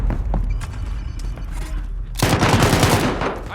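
Rapid automatic gunfire in Call of Duty: Modern Warfare, loud and dense, bursting into a sustained volley of close shots after a quieter stretch of distant firing and game sounds.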